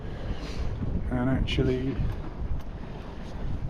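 Wind noise on a sailboat under headsail with the engine off, a steady breezy rush with low buffeting across the microphone, someone talking briefly over it.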